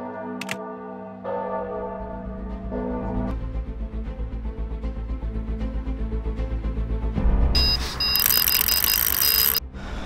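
A carp fishing bite alarm goes off beside the water, a loud, rapid run of electronic beeps that keeps going for several seconds, then gives way to a harsh, noisy burst near the end.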